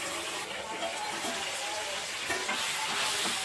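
Whole spices such as cloves and cardamom sautéing in a pan for paneer methi curry, a continuous close sizzle and crackle with occasional stirring scrapes, steady and fairly loud throughout.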